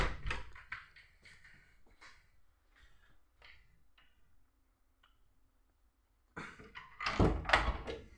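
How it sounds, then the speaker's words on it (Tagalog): A door swung shut in a home kitchen near a stove, heard as a couple of close, solid thunks amid sparse ticks and small knocks, followed by a louder burst of clatter near the end. "Isara nga natin yung pintuan"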